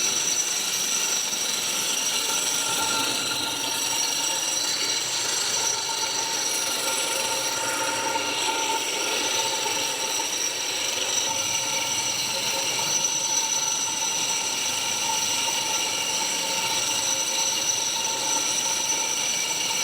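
A BYCON DFG-250E floor grinder runs steadily on a construction site floor, a continuous whirring mechanical drone with a bright, even hiss and no pauses.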